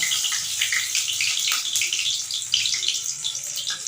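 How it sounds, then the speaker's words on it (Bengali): White cumin seeds sizzle in hot oil with bay leaf for tempering, a steady bright hiss and crackle that is fairly close and continuous throughout, with no voices. "এবার দিয়ে দেবো সাদা জিরে ফোড়ন"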